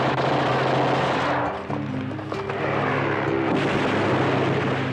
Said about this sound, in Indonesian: baku tembak antara pihak tentara Jepang dengan anak buah Kapten Slamet sedang berlangsung sengit